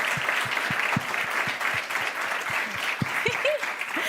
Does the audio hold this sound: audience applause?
yes